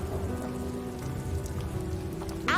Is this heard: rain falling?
yes